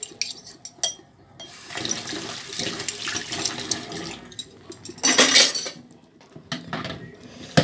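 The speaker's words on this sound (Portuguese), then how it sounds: "eu vou passar a louça por água" Water runs from a tap in uneven spurts while dishes clink and rattle nearby; a loud gush of water rises midway, then tapers to drips and clatter.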